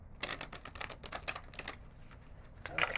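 Tarot cards being shuffled during a reading, a quick run of crisp riffling flicks close up for about two seconds, then a few softer card taps.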